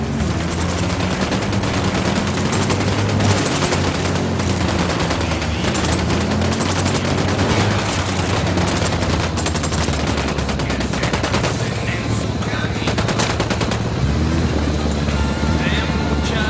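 Rapid gunfire crackles almost continuously in the Ghost Recon Wildlands video game, dense bursts over engine rumble, with people talking at times.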